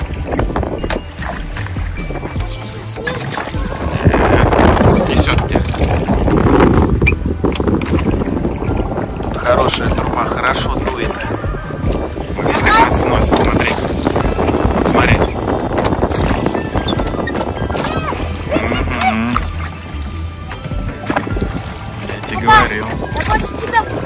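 Wind gusts buffet the microphone while a rowboat is rowed on a lake in a palace park in Gatchina, roaring in loud uneven waves beneath people talking nearby.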